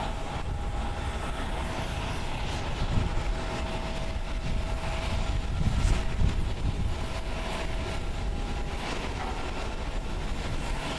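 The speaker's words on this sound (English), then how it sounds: "Landing on runway 23 is going to be Japan Airlines flight 570 coming in from OBO. It is a 1 hour and 20-minute flight aboard a Boeing 737-800" A Japan Airlines Boeing 737-800 lands on runway 23 at Tokyo's Haneda Airport, its steady broadband jet roar rumbling continuously at moderate distance with no voices.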